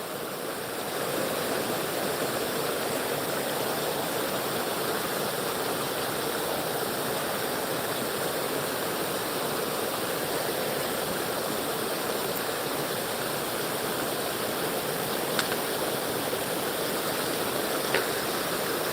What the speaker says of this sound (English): if you can hear the water in the background